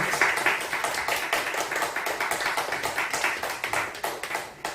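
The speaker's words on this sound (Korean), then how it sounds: "축하의 박수 부탁드리고요" Birthday applause at a church youth Sunday service, a group clapping together in a quick, fairly even rhythm, steady and moderately loud for the whole stretch.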